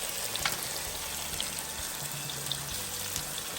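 Tomahawk pork chops fry in coconut oil, a steady close sizzle and crackle with scattered sharper pops, heard alone.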